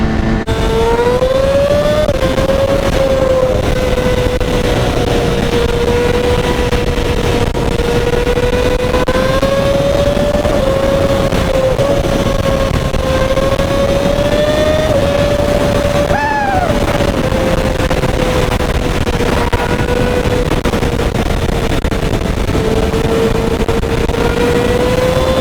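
A 2011 Kawasaki ZX10R motorcycle engine drones steadily while being ridden, a loud, close, continuous hum with a slight rise and fall in pitch and constant wind rush underneath.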